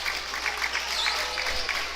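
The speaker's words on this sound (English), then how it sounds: "As Isaacs for the Tigers gets a round of applause" A crowd applauds a Tigers player at a St. Joseph vs. San Luis Obispo game with a steady patter of scattered clapping, moderately distant and continuous, with no clear talk over it.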